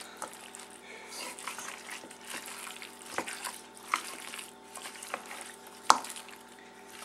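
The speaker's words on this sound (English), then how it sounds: "It's kind of difficult to stir, and that's just because of the green beans." A spoon works slowly through a thick, chunky mix of shoepeg corn and green beans for a casserole, giving wet squishing and sloshing with a few sharp clinks against the bowl, steady and close.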